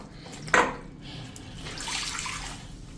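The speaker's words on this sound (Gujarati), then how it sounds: "કોઈ પણ કપડું કોટનનું હોય સાદું એને ભીનું કરી લેવાનું છે આ રીતે પાણીમાં." A plain cotton cloth is dipped into water and wetted. A sharp splash comes first, followed by softer sloshing and dripping sounds nearby.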